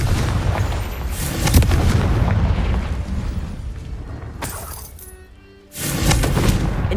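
A Confringo explosive spell is cast in Hogwarts Legacy, loud booming blasts with rumbling low-end roar that fades, then a second sharp explosion bursts in near the end.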